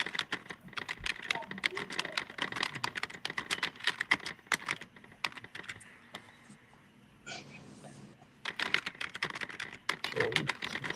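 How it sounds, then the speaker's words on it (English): Rapid keyboard typing clatters on and off throughout, a dense stream of quiet key clicks with a brief pause partway, picked up by a nearby microphone in an indoor room. "Who was that typing like that?"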